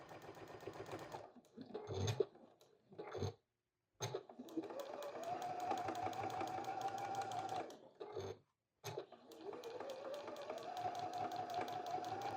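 A domestic sewing machine top-stitches a small fabric mitten gift card holder, running in long steady whirring bursts with brief stops and restarts, close and fairly loud, with no talking.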